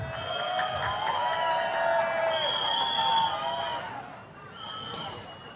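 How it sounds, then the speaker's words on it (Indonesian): A crowd of volunteers cheering and applauding for the governor at a victory celebration, a dense roar of voices and clapping with loud music over it, fading slightly toward the end. "Yuk, tepuk tangannya untuk Bapak Gubernur kita."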